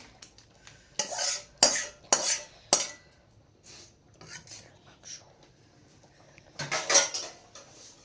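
Curry being scraped and poured out of a metal cooking pot, with several sharp clinks and scrapes of a spoon against the pot in short bursts, then quieter shuffling before a final clattering scrape.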